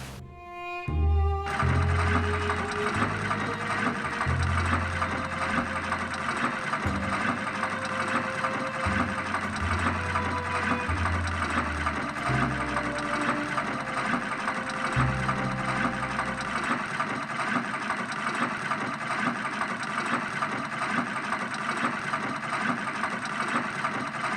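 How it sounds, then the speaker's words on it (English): A sewing machine stitches a dress in a mystery adventure game, its steady mechanical whir loud and continuous, rising and falling in short bursts over a constant motor hum. "All I need is the dress Jim Archer gave me, and I can start sewing."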